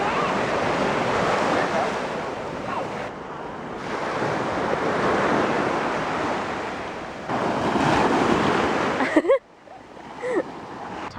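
Ocean surf rolling onto the beach at Torremolinos, Spain, a steady loud wash of breaking waves with gusty wind rumble on the microphone, briefly interrupted near the end by a short burst of handling noise.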